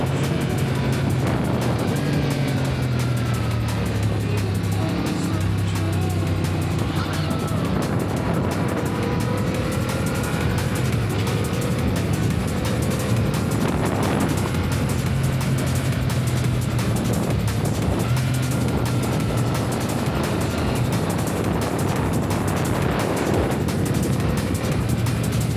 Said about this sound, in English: Opening up the throttle a little bit here. As we cruise over this mountain ridge.